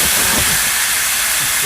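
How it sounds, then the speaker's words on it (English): Hot pan hissing loudly as white wine hits it while deglazing for scallops scampi, a dense steady sizzle close up with no voices. "Deglaze the pan with a little white wine."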